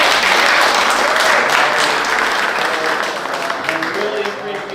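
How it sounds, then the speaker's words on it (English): An audience at a local Democrats meeting gives sustained applause, loud and dense at first and thinning toward the end, with a voice speaking over the fading clapping. "let's give it a round of applause for them"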